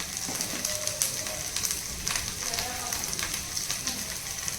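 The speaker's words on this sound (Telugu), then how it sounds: "అల్లం వెల్లుల్లి పేస్ట్ వేగిపోయింది." Ginger garlic paste frying in a pan while a rajma pudina rice dish is cooked, a steady close sizzle with light crackles and pops throughout, and no talking over it.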